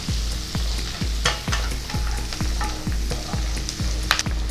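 Onion frying in a pan and being stirred for chicken pish pash, with regular thumping spatula strokes about twice a second over a continuous close sizzle, loud and without talking.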